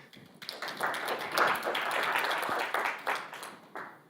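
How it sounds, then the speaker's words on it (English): Audience at a CoinFestUK 2018 cryptocurrency conference claps for a speaker in a dense, steady burst that builds quickly, holds for several seconds, then thins out near the end. "Round of applause for Danny,"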